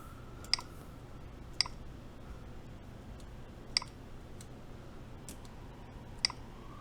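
Sparse, isolated key clicks from a 60% mechanical keyboard with a carbon fiber skeleton case, about five sharp taps spread over several seconds against a low steady hum, with no voices.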